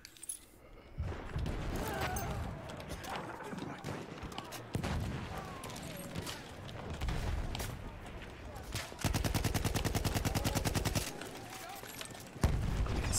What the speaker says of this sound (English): I'm getting sniped at from the right somewhere.